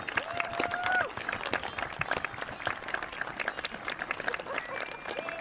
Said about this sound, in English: just a round of applause for Chris, Helen, and Jay